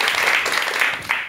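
An audience in a lecture hall breaks into a brief, dense burst of clapping to welcome a psychiatrist giving a lecture on depression.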